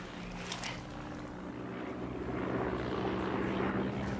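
A propeller-driven airplane passing overhead in an outdoor field setting, heard as a steady droning engine hum that grows slightly louder and fuller toward the end, with no talk over it.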